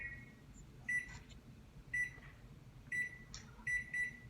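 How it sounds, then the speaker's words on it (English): A microwave oven timer beeps in short bright bursts, four clusters spaced about a second apart, clear and moderately loud over a low room hum. "I'm using the microwave timer."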